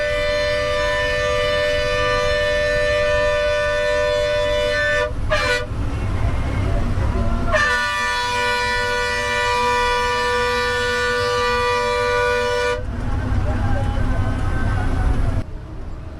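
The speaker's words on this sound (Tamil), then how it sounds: "நிறைய ஹார்ன் அடிச்சுக்கிட்டே தான் வந்து பேருந்தை வந்து இயக்கியிருப்பாங்க" A bus on a narrow, winding mountain road sounds its horn in long, loud, sustained blasts over a constant engine rumble, with brief breaks between the honks.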